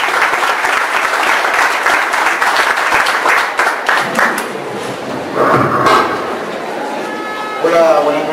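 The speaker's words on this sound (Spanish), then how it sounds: "Demos un fuerte aplauso de bienvenida al doctor." Loud audience applause fills the room in a sustained wash of clapping as a doctor is welcomed to the stage at an entrepreneurship talk. It fades after a few seconds, with a faint voice beginning near the end.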